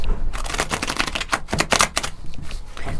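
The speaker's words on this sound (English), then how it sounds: "we're going to pull a couple of angel cards to close here." Angel oracle cards riffled and shuffled by hand, a rapid close sequence of crisp flicking snaps that bunch into denser bursts, loud and with no talk.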